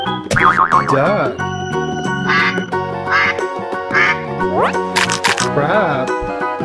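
A cartoon-style duck quacks in a children's learning song about sea and zoo animals, bright repeated quacks over a bouncy musical backing with springy boing effects.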